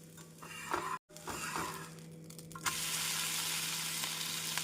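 Tomato dosa frying in oil on a pan with onion, a soft sizzle and a few scraping touches that give way to a louder, steady hiss of frying.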